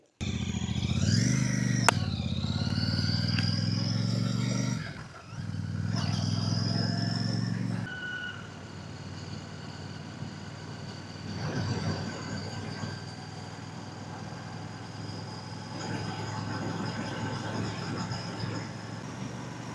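Royal Enfield Classic 650 motorcycle being ridden, its engine a steady loud drone with a rise and drop in pitch early on, then settling into a quieter, even hum under wind noise.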